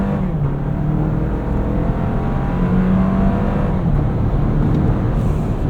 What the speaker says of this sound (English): Let's put us into sport mode here, and we'll knock out a quick 0 to 60.